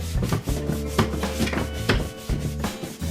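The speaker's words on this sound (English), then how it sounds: "and you just start sanding" Steady hand sanding of a wooden cabinet, a rough scratchy rubbing in repeated back-and-forth strokes, close up with no talking.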